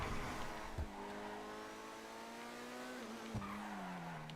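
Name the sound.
car tires squealing under hard braking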